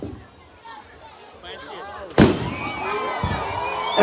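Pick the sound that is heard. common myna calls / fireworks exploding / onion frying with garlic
fireworks exploding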